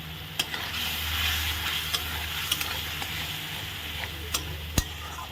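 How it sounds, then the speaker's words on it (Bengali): Green chili paste is stir-fried in a pan, giving a continuous sizzle broken by a few sharp clicks and scrapes of the spoon against the pan. No voices. "কাঁচা লঙ্কা বাটা দিয়ে আমি একটু ভালো করে নেড়ে চেড়ে দেবো"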